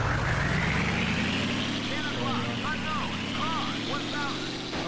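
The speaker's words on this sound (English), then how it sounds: "I can hear an engine." A vehicle engine in the video game Operation Flashpoint rumbles steadily and loudly throughout, with a rising drone and some chirping sounds layered on top.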